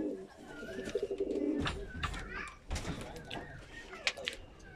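High-flyer pigeons in a loft cooing at close range, soft throaty coos and a few chirps mixed with rustling and handling noises, with someone speaking now and then.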